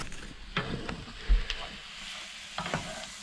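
Food fries in a pan on a NEO TOOLS portable camping gas stove inside a caravan, a quiet sizzle with a few soft scraping stirs and clicks.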